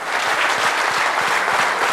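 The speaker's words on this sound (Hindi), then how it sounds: "इनका अभी जोरदार तालियों के साथ स्वागत होना जरूरी है." Enthusiastic audience applause at a motivational talk welcoming guests from Latur and Pune, a dense sustained burst of clapping from a large crowd, loud and even throughout.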